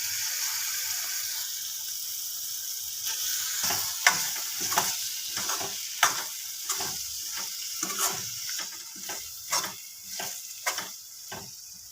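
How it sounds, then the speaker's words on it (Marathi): Moth beans dropped into a hot pan for a spicy misal, starting with a steady sizzle of frying, then rhythmic clinking spatula stirs against the pan over continuous hissing, close and prominent, with no talking. "आता आपण मटकी टाकून घ्यायची"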